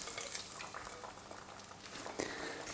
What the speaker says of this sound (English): Now what we can do is pop in the eggs.